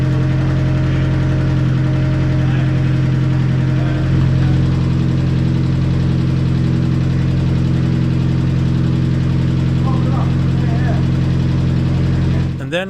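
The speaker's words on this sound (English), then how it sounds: "the lifter tick starting to increase as the car was getting up to temperature" A 1.6L turbo Mazda Miata engine idles steadily and loudly for the whole stretch, its low rumble carrying a faint repetitive lifter tick as it warms up.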